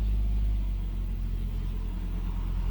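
A truck spraying weed killer drives slowly past close behind a parked truck, making a steady low engine rumble that stays loud and even throughout.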